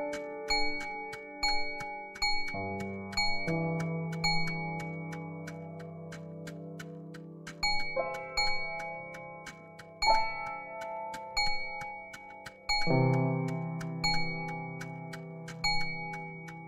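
Bell tones in the game One Hour One Life, a series of clear ringing chimes with long sustained decays, struck every second or two and overlapping in layered tones, with no talking.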